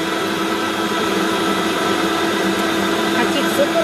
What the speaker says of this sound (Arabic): بيان سور باتور يعمل برشا حس